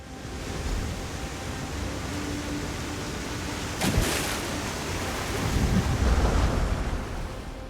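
Stormy weather in Elder Scrolls Online, a continuous roar of wind and surf-like rumble with a sharp crack of thunder near the middle and a swelling low rumble afterward, no speech.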